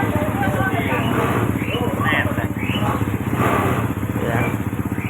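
A Honda Supra motorcycle engine idles steadily with a carburetor-tuned low rumble, close and continuous under someone talking throughout.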